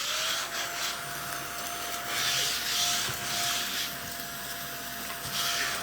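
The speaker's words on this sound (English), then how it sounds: "I do have a little vacuum here." A small handheld vacuum cleaner runs steadily throughout, a continuous whining motor hum with a sustained tone, rising and falling slightly in loudness as it moves over a dusty surface, with no talking.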